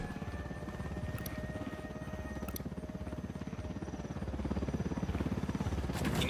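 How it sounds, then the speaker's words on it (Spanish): Helicopter in the video game Ghost Recon Wildlands, a steady rhythmic rotor chop that grows slightly louder toward the end, with faint clicks over the top. "Helicóptero, al suelo."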